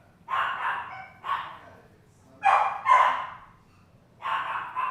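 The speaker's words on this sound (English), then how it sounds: "if you got to hear all the noise of the dogs" Several dogs bark loudly indoors in a home, in five sharp bursts with brief gaps between them and no talking over them.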